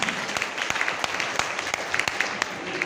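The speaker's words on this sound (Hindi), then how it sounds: "ताली जोरदार बजा लीजिए।" Applause at a motivational seminar, a brief burst of scattered, individually distinct claps at moderate distance, fairly sparse rather than a dense ovation.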